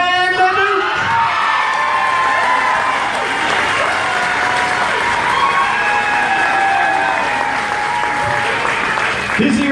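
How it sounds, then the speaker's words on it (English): Audience at the Niagara Falls Elvis Festival 2017 applauding and cheering, a dense sustained wash of clapping with some whoops that fills the whole stretch and fades slightly at the end. "Give them a big round of applause."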